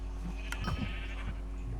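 A sheep bleating in the Minecraft Sheep Quest mini-game, a few short, faint bleats over a steady low hum.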